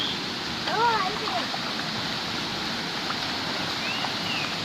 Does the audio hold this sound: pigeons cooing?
no